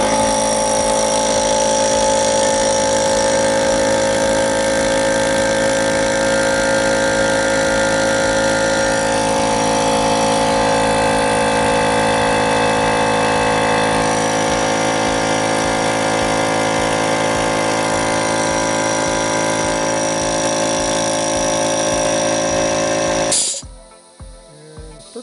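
Rebuilt air compressor running loud and steady as it builds pressure toward 100 psi, a continuous motor and pump drone with rising tonal whine, then it shuts off abruptly near the end, leaving faint hiss and clicks.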